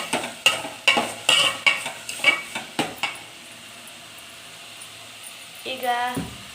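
A spoon scraping and stirring a frying masala mixture in a pan, about ten rhythmic strokes, then a quiet low sizzle, with a brief voice speaking near the end.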